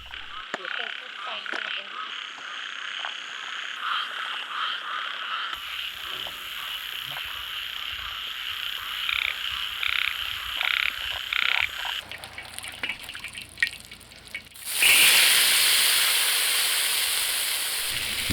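Frogs croak at night across rice fields, a dense, steady chorus of repeated calls close by, ending in a sudden burst of loud hiss.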